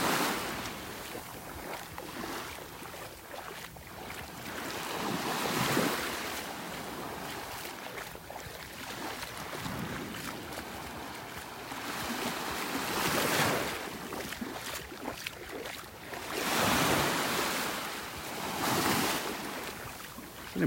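Ocean waves breaking and washing up on a beach in North Naples, Florida, with repeated surges every few seconds over steady wind noise, heard up close with no talk.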